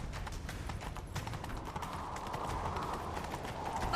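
A horse gallops in The Witcher 3 video game, with rapid, continuous hoofbeats close by under a steady rumble of movement and wind, loud and unbroken throughout.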